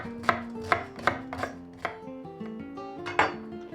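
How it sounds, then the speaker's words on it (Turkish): A knife chops an onion on a board with several sharp, slightly irregular thuds, close and clear, over faint tonal background music. "Bunu şöyle sıçan dışı doğrayalım."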